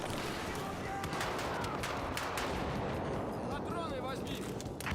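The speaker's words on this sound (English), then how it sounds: "Oh, rockets." Rocket explosions in a Battlefield video game land amid a dense, continuous roar of blasts and gunfire, with voices faintly mixed in throughout.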